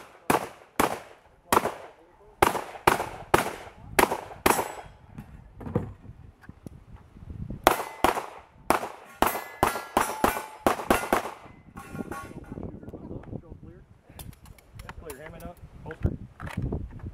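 Rapid volleys of loud shotgun blasts ring out at close range during a timed 3-gun competition stage, sharp reports in quick clusters with short pauses between, and voices calling out near the end.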